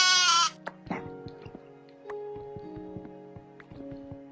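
A Minecraft sheep lets out one loud, close bleat at the start, then the clip falls back to quieter game sounds and a low tone.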